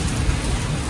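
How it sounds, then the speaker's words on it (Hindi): Heavy rain pours steadily in a village, a dense close hiss of drops with a low rumble beneath, loud and unbroken with no voices. "गांव में भी बारिश हुई तेज शुरू हो चुकी है"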